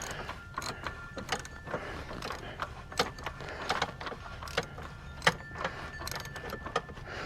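Oil filter on a 2024 Can-Am RT Limited being turned on by hand, light scattered metallic clicks and scrapes with small taps, quiet and close, no talk.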